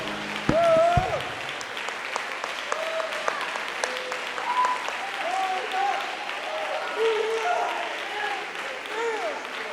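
A church congregation claps steadily through a worship service praising Jesus, a dense continuous patter that runs the whole time while a voice sings or calls out over it.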